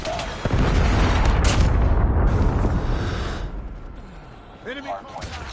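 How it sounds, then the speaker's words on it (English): Predator missile strike in a Call of Duty match, a sudden loud boom that rolls into a long rumbling decay, with fainter game noise and a brief voice near the end. "Hostile Predator missile inbound"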